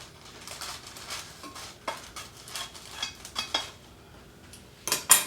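A knife cuts through candy and wax paper in a pan, giving scattered scraping and tapping strokes with a few sharper clicks near the end, close and moderately loud.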